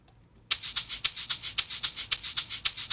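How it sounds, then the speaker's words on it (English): Shaker sample in a beat with the low end cut, playing a steady fast rhythm of bright, hissy shakes after a brief quiet start, thin and airy with no bass. "this is how it sounds without the bass"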